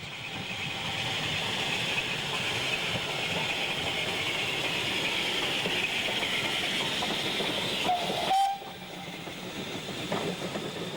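Steam train passing carriage sidings, likely a Standard tank locomotive, a steady loud rumble with hissing and wheel clatter that continues throughout, broken near the end by a brief sharp drop and squeal.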